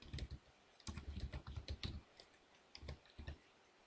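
Quiet bursts of rapid typing on a computer keyboard, clustered clicks in short runs separated by brief pauses, close and alone.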